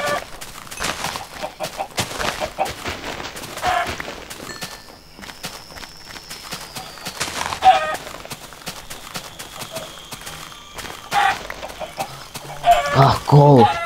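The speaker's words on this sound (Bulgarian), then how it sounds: "Охо, много чикини." Chickens in the Minecraft video game clucking in repeated short bursts amid busy game sounds and footsteps, moderately loud, with a few louder squawks near the end.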